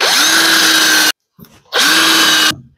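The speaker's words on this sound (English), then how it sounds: "clamp it down, and put some pilot holes in there." A power drill bores pilot holes into the wood of a raised bed garden planter, in two loud, steady bursts of about a second each, spinning up and cutting off sharply, with a short quiet gap between them.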